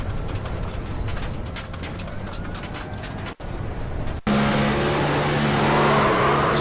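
Onboard race car engine from a stock-car style racing video game at an Auto Club oval, a steady loud drone that briefly cuts out before returning with a stronger, sustained tone.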